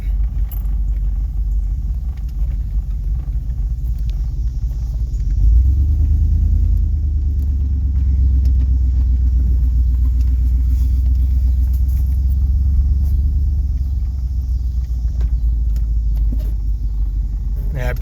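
A Chevrolet Suburban engine runs steadily nearby, a low rumble that swells slightly as it revs before settling back to an even idle.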